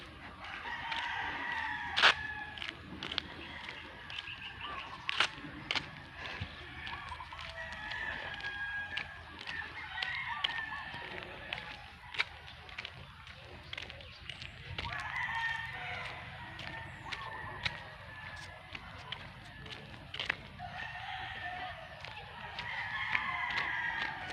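A rooster crows repeatedly at a chicken coop, bright strained calls rising over soft clucking and a faint outdoor background, with no talking.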